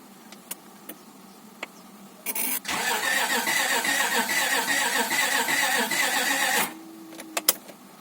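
Starter cranking a car engine over after a rear main seal replacement, a steady whirring crank lasting about four seconds without catching, close and loud, with a few clicks before and after and no talk.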